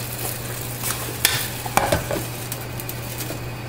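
Bâtonnet-cut vegetables frying in a pan, a soft continuous sizzle with a few sharp utensil scrapes and knocks against the pan over a low steady hum.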